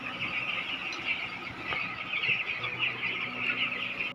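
Dense high-pitched peeping of many chicks with occasional hen clucks on a chicken farm, continuous and fairly loud, over a steady fan hum.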